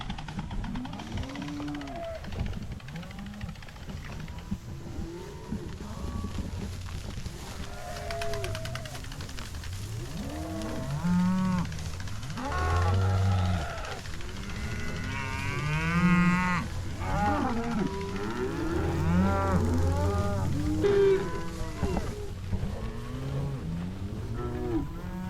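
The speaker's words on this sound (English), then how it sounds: "let these cows into this next little half-acre piece here" Several cattle moo loudly and often, overlapping one another close by as the herd is let into a fresh half-acre paddock of pasture to graze.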